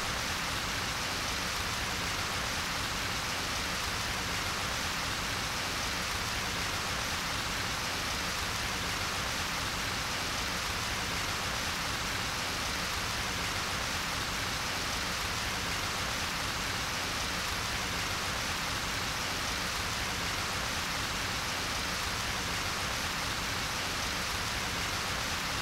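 Steady heavy rain in a Japanese visual novel, a dense, unbroken hiss of downpour that stays loud and even throughout, with no voices.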